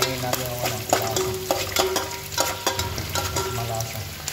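Chicken feet fry in hot oil for sweet chicken feet adobo, a constant close sizzle broken by repeated scraping and stirring knocks from a utensil in the pan.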